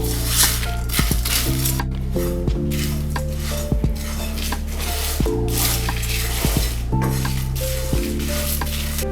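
Whole garam masala spices dry-roasting in a pan on the stove, with repeated close scraping and rattling of a spatula against the metal pan over a soft sizzle and a low steady hum.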